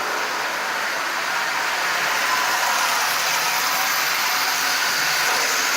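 A Marx 6000 B unit model locomotive, refitted with a micro motor, runs on track with a steady, even mechanical whir. The sound is close and constant, with no talk over it.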